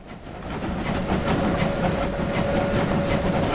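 A locomotive in the Train Sim Classic Brockenbahn video game accelerating, with a steady rolling rumble, rhythmic clickety-clack of wheels and a faint sustained whine, growing slightly louder with no talk over it.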